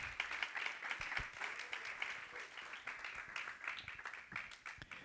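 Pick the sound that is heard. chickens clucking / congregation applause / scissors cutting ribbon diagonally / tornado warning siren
congregation applause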